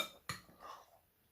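A single sharp metal clink of a utensil against a bowl while mixing sweet macaroni salad with condensed milk, followed by a brief soft scrape, close and fairly quiet.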